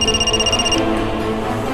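A telephone rings with a steady trilling bell tone, loud and close, stopping partway through amid low indoor background sound in a household.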